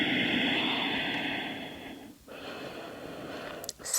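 Deep, steady breathing in child's pose (Balasana) during a dynamic yoga session, a continuous airy hiss with slow swells and two brief dips, close to the microphone with no talking.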